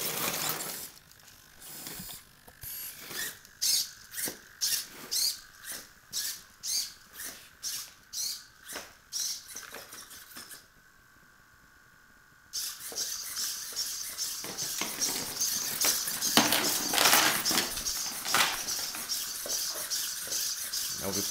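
Robot servos whir in short, rhythmic, rattling bursts once the servo controller is powered. There is a brief pause, then a denser and more continuous mechanical grinding and chattering, heard up close with a voice in the background.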